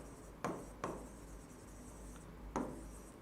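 Marker or chalk strokes on a classroom board during a physics lesson, three short faint scratching strokes over quiet room hiss.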